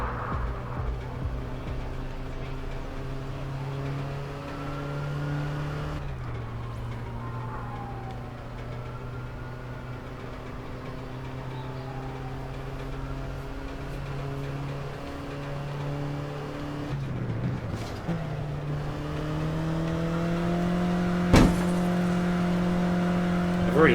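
Car engine in the video game APB Reloaded on Xbox One, a steady mid-level drone with shifting harmonic tones as the car accelerates and revs, a gear change or jolt near the end and a sharp crash-like hit.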